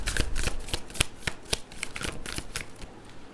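Tarot cards riffled and shuffled at close range, a fast series of sharp papery flicks and slaps running continuously without any voices.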